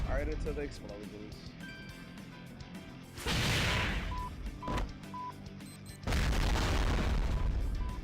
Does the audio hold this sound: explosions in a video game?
yes